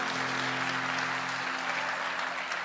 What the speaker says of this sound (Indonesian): Kasih tepuk tangan buat Allah kita.